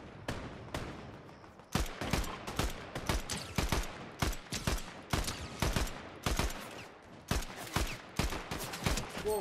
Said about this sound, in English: There is a lot of firing going on over here